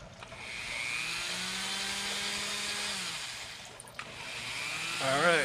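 Dremel rotary tool spinning at its lowest speed against a carved wood Santa spirit, a steady whine with a low hum held for several seconds, then changing pitch near the end.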